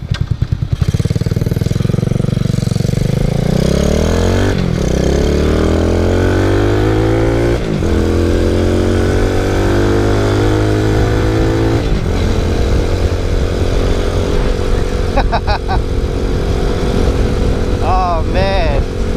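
A small Boom Vader motorcycle, a Grom clone, being ridden, its engine revving up through the gears in repeated rising sweeps with short gaps between shifts, loud and close, with wind noise over it throughout.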